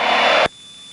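A small airplane in flight over Princeton, Minnesota gives a loud, steady engine roar that cuts off abruptly partway through, leaving a quieter hum.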